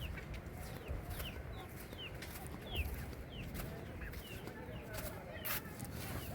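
Free-roaming chickens around a coop on an island give repeated soft clucks and short calls at low level, scattered irregularly over faint outdoor ambience.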